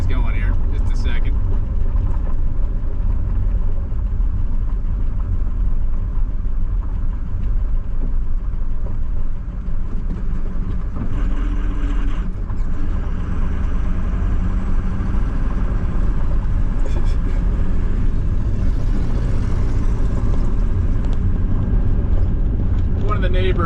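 A neighbor's truck on a Montana farm road runs with a continuous low engine drone, idling and moving for a long stretch, with occasional indistinct voice in the background.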